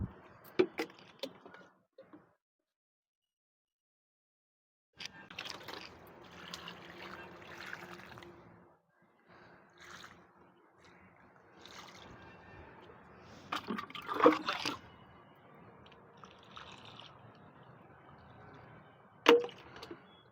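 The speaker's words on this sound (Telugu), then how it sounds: "మొత్తం డ్రై ఉందని వాటర్ పోస్తున్నాయి ఇట్లా" Water is poured onto dry plant seedlings, heard as faint, quiet trickles and splashes in short bursts separated by near silence.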